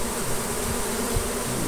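Honey bees drone steadily from a hive inside floor framing of a house, one of several hives there, giving a dense, close, continuous buzzing hum with no talk.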